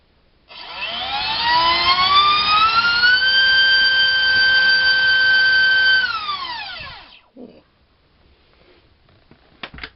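EMAX RS2306 2750kv drone motor with a GEMFAN 4045 three-blade prop on a thrust test stand, spinning up to a loud, high, rising whine, holding for several seconds, then winding down, followed by faint clicks.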